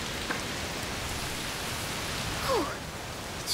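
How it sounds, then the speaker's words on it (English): Dense rainfall in A Plague Tale: Requiem hisses evenly throughout, a soft continuous wash with a brief faint chirp-like sound near the middle and no talking. "Oh, it's raining a lot."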